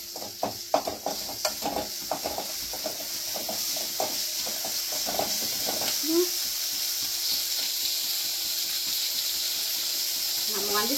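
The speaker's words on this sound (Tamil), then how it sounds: "நம்ம வந்து வதக்கிட்டு இருக்கோம்." Mutton sautés in a pan with a low, steady sizzle beneath repeated scraping and stirring strokes, and a voice talks briefly over it.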